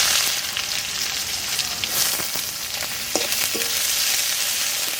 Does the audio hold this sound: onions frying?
yes